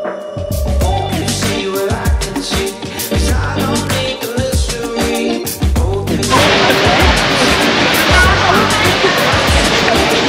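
Haew Suwat waterfall in Khao Yai National Park, Thailand: people talk over a rushing background, then a loud, steady roar of falling water swells up close and fills the rest.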